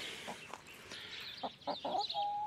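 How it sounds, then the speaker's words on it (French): A white bantam hen clucks in short, soft bursts close by, a few spaced calls rising into a longer sustained note near the end. "Petite poule naine blanche"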